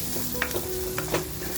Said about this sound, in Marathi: आता तो आपण टाकून छान असा फ्राय करून घेऊया